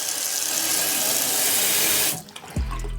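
Tap water pours hard from an apartment faucet with its aerator removed, a loud steady rush that cuts off abruptly about two-thirds through, followed by a brief thump and quiet room tone.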